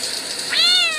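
A cat in the Adorable Home video game gives a single short, clear, close meow, rising then falling, with no talk over it.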